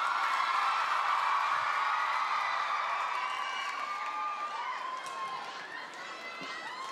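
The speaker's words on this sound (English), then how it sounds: "Give him a big cheer" A crowd at a charity telethon cheers and whoops for Blair McDonough, a sustained loud roar with scattered shouts that slowly tapers, mixed with voices.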